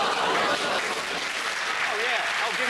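Audience applause at a boxing-related event, dense and continuous clapping with voices faintly mixed in.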